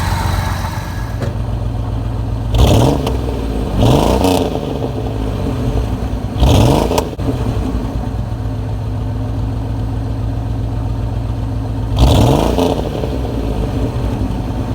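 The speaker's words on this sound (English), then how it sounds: "there's the new exhaust note without the exhaust leak" A 1986 Pontiac Fiero SE engine idles with a low, throaty exhaust rumble after an exhaust leak repair, broken by several quick revs that swell and drop back to idle.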